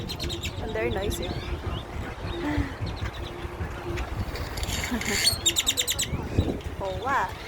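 Many birds chirp and call together from the roof of a grocery store, with dense overlapping tweets and short bursts throughout and human voices talking underneath.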